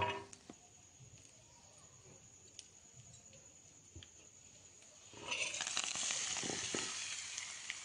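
Hot tempering with a half spoon of turmeric poured into yogurt vada (perugu vada) in a small bowl, giving a sudden loud sizzle and crackle midway that follows quiet kitchen sounds and a few soft clinks.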